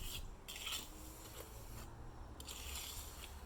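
A trowel glides back and forth over a wet Quikrete Walkmaker concrete patio, giving soft, continuous scraping rasps in two close, fairly quiet passes with no voices.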